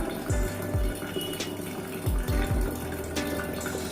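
Water streaming with force from an automatic water dispenser, a steady close rush under low pump-like thumps, with no one talking.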